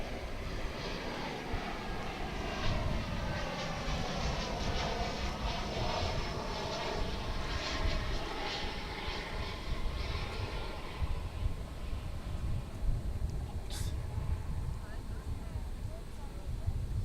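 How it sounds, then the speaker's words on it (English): An American Airlines Airbus A319 airliner passing at DFW International Airport, a continuous loud engine roar and rumble that swells and sustains, heard alone without talk. "Here comes American Airlines Flight 1705 from Monterrey in Mexico."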